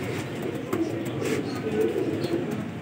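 Teddy breeder pigeons coo softly in repeated low murmurs, close by, over a faint background hum.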